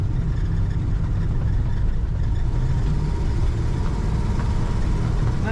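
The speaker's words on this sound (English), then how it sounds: "This truck has a nice rumble to it." A 1960 Chevrolet Apache truck engine idles with a deep, steady rumble, loud and close, continuous throughout with a rough low-end throb and no talk.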